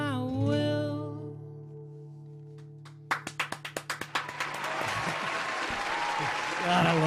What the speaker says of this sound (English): God, I love the claps.